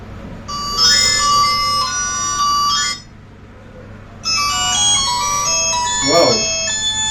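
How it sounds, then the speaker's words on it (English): A Nokia 150 mobile phone rings loudly with a bright electronic melody, playing in two bursts separated by a short pause, with a voice briefly talking near the end. "Let's see the ringtone."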